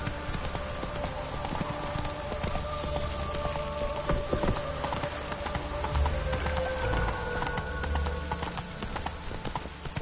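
Roach the horse gallops in The Witcher 3, a steady, rapid clip-clop of hooves running on and on under a dense bed of ambient game noise, with no talk over it.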